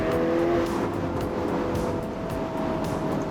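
A Ferrari engine while driving, a steady close-up drone heard from inside the car that holds a constant pitch, with no talking over it.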